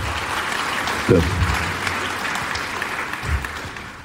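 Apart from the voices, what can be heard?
audience applause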